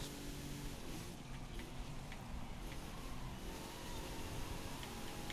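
Engine revving from a car in the Forza Horizon 5 racing game, a steady dense drone held through the whole stretch while stuck behind another car through corners, loud and continuous with no talking.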